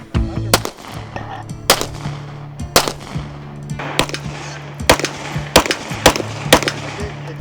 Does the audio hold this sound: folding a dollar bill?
no